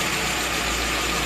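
A car engine idles with its carburetor idle screw being adjusted, giving a steady, close, even hum with no change over the brief stretch and no talking.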